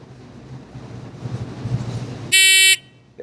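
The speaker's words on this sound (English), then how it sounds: "you'll hear just one beep" A single loud electronic beep from a shooting shot timer, sharp and buzzy, lasting under half a second after a stretch of low background rumble.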